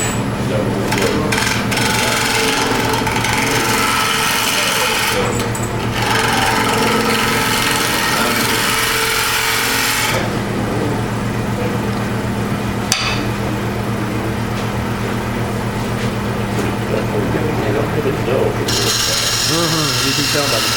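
Wood spins fast on a lathe during a woodturning club demonstration of two-piece hollow forms, a loud steady hum with scraping tool contact and rough bursts of cutting that change in character partway through.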